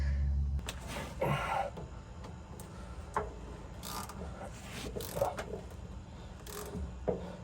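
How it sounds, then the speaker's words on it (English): A ratchet turns back a slack adjuster nut on a 5-ton army truck by about half a turn. Faint clicking and grinding metal sounds up close, with low rumbling noise and a few sharper knocks. "So I'll loosen this bolt or nut, whatever, back a half a turn."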